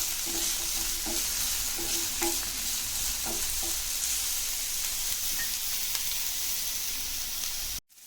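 Sliced onions frying and being stirred in a pan for chilli paneer, a steady close sizzle with scattered scraping taps from the spatula, no voices.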